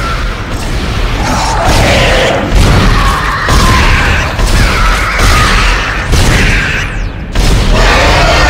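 Gunfire in the video game Dead Space, a dense barrage of loud booming shots and crashing impacts in rapid, irregular succession, close and dominant throughout with little pause.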